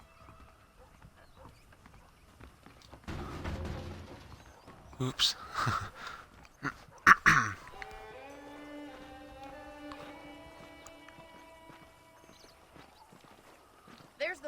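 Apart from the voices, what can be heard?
saddled horses clip-clopping, Red Dead Redemption video game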